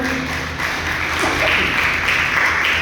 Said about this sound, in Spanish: Damos una fuerte ofrenda de palmas a nuestro Padre Celestial